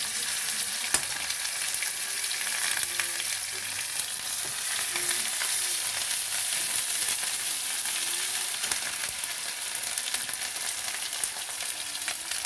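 Chopped onion and ginger paste fry in a pan with a steady, dense sizzle that carries on without a break, and a few faint stirring scrapes come through.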